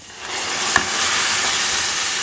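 Onions and green chillies sautéing in a pan for Kerala egg puff filling, a steady loud close sizzle with one brief clink of a spoon, no voices.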